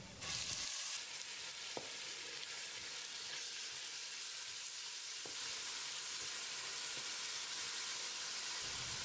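Two chopped tomatoes sautéing in a pan with onion and turmeric for village chicken curry, giving a steady loud sizzle and fry with occasional stirring clicks and no talking.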